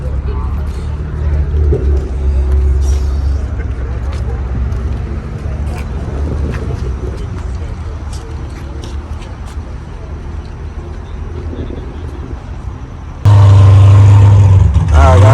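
A car with a big turbo at a car meet, a loud engine rumble and revving that swells near the end, with crowd noise and people talking over it.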